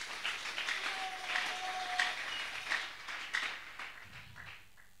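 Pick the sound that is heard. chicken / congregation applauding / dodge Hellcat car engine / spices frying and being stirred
congregation applauding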